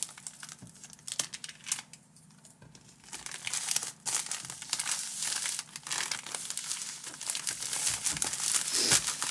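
Packing tape being pulled, applied and crinkled around a package, with close, loud crackling, rustling and tearing sounds that come in irregular bursts and build toward the end.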